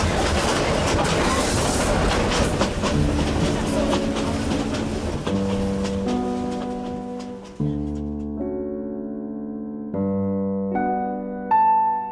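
A train in Myanmar rumbles along the rails with a steady roar and rhythmic clatter, with tonal hums emerging as the noise gradually settles.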